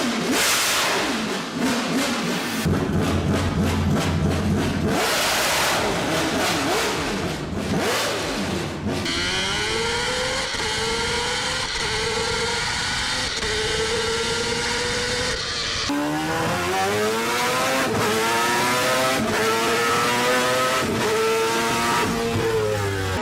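Naturally aspirated Mazda RX-7 rotary engine making about 600 horsepower and revving toward 11,000 rpm, loud and close, with sharp rising and falling revs and harsh high-pitched howl throughout.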